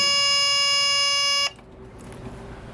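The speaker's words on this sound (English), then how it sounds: "that buzzer is a low oil alarm" A boat's low oil alarm buzzer sounds as a loud, steady electronic tone, holding for about a second and a half before cutting off abruptly into quiet background hum.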